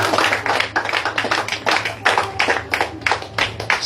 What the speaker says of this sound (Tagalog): Ganyan po bang kalakas ang palakpak sa Panginoon?